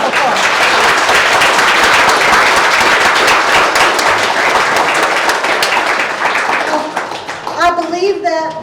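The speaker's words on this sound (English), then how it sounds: "would you give them a round of applause?" Audience at a talk on witchy uses of Texas plants breaks into loud, dense applause that runs steadily for several seconds, then thins out and fades as talking and laughter rise at the end.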